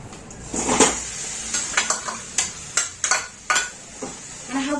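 Half a kilo of jaggery is stirred into melted ghee in a metal pot, giving repeated close scraping and clinking strokes from the spoon in an uneven rhythm over a faint sizzle.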